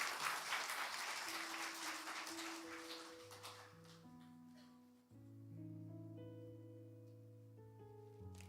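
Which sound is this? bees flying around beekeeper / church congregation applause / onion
church congregation applause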